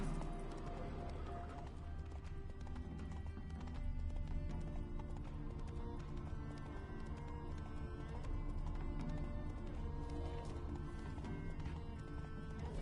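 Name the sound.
horse hooves clip-clopping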